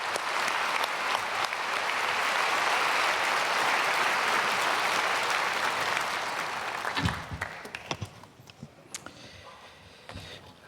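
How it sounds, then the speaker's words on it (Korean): A church congregation at a Wednesday prayer service applauds loudly and steadily for about seven seconds, then the clapping thins into scattered claps and fades. "박수하러 맞이하겠습니다"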